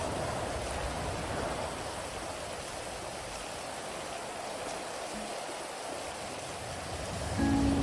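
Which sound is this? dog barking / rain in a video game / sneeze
rain in a video game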